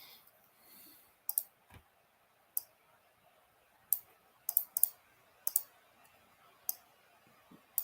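Sharp computer mouse clicks, single and in quick pairs, tap out an irregular rhythm over quiet room tone while editing an image, close and fairly crisp.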